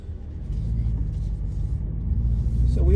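Steady low engine and road rumble from a 2021 BMW 330i sedan cruising in sport mode, a continuous drone that swells slightly toward the end, heard from inside the cabin without talk.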